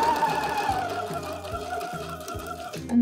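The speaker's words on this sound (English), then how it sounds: "line up the raw edge with the horsehair, and we are going to sew in that first groove of the bias binding" A sewing machine stitching bias binding onto horsehair braid along a hem, running steadily close up with a regular rapid needle thump and motor whine, slowing near the end.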